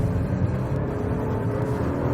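A Citroen C3 Aircross engine hums and pulls steadily under acceleration in second gear, heard from inside the cabin as a continuous low drone without speech.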